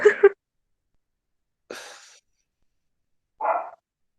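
A dog barks three times indoors, short separate woofs spaced well apart with silence between them, close and moderately loud.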